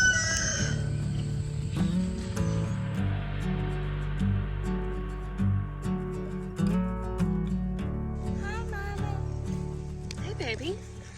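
Rescue hens on a homestead cluck and chatter in short, repeated calls, fairly close, mixed under people talking nearby.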